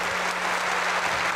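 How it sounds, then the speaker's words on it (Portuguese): Audience applause fills a church gathering led by a priest, dense steady clapping throughout at moderate loudness with no one speaking. "uma salva de palmas"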